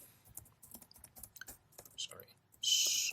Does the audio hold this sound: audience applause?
no